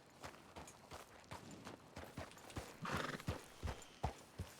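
Video game horse sounds: rhythmic hoof clip-clops at a walking pace, a short whinny partway through, faint and fairly close with no talk over them.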